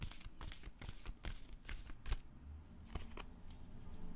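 Tarot cards are shuffled close by, giving a run of quick papery riffles and soft flicks in irregular bursts, quiet and with no talking.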